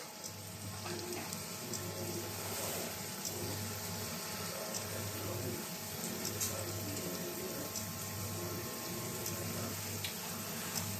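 Water runs steadily from a tap, a continuous close hiss and splash with a low pulsing hum underneath.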